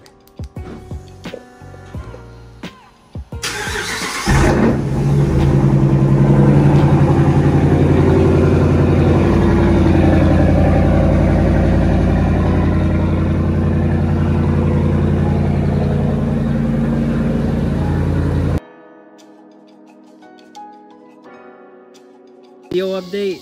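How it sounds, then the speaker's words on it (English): Lifted Ram pickup truck engine cold-starting with a loud crank and catch, then idling steadily at high volume for some seconds before cutting off, with brief talk before and after. "I'll give you guys a cold start."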